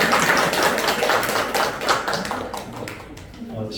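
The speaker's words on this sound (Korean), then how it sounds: "우리 한번 경례의 박수하겠습니다" A church congregation applauds together after a prayer, a dense wash of many hands clapping at once that stays loud and steady, then thins slightly toward the end.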